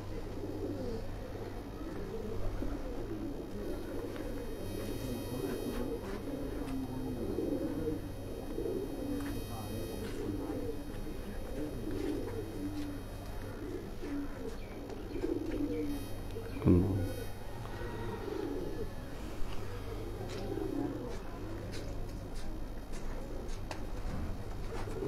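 Pigeons coo in a loft, a steady low murmur of overlapping calls running throughout, with faint chirps and a brief louder knock near the middle.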